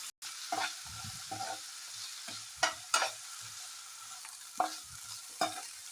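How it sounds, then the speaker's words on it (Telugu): Small peeled potato pieces frying in a pan with chilli, ginger, garlic and curry leaves for an aloo masala curry, a soft sizzle broken by several sharp stirring scrapes and clatters, close and clear with no talking. "ఇట్లా బంగాళదుంప తొక్క తీసేసి చిన్న చిన్న పీసుగా కట్ చేసుకొని వేసుకుంటున్నాను"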